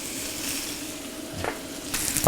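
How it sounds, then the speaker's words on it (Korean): Garlic and onion sizzle steadily in a dry, heated pan for a Korean chive stir-fry, a continuous close hiss with a few sharper crackling bursts toward the end. "여기 칙 소리가 올라오면 어느 정도 달궈진 것 같아요"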